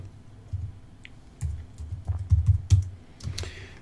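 Keys clatter on a computer keyboard with scattered clicks, an irregular run of close, crisp taps without any speech.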